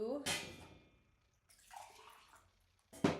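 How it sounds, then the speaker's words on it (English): Water poured into a child's cup, such as a sippy or straw cup: three short, close pours and splashes separated by quiet pauses. "I'm going to pour some water in here to show you."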